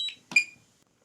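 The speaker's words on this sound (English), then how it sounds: "press and hold it again until the remote controller beeps to indicate it is powered on" A DJI Mini 2 drone remote controller gives a short electronic power-on signal: a brief tone, then a brighter double chirp, close and clean, followed by quiet.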